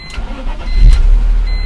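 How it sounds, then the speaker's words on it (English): A BMW E46 engine cranks briefly and catches after a fuel pump replacement, then settles into a loud, close, steady idle. "So let's go ahead and see if the car is going to start up"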